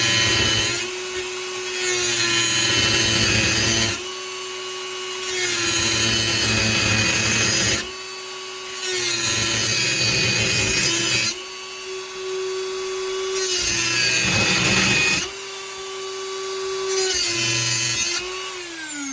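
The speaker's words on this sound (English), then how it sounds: "we're just going to take this Dremel and cut right here and try to split that nut off" A Dremel rotary tool cuts into a kitchen sink drain nut, a loud high-pitched grinding whine in repeated bursts of a few seconds each, dropping in pitch as it bites and pausing briefly between cuts.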